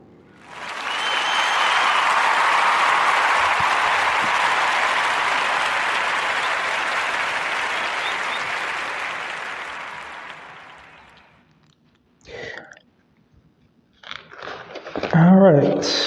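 Audience applause for a podcast guest, a long dense burst of clapping that swells in the first seconds, holds steady for about ten seconds, then fades, followed by a few scattered claps and brief talk.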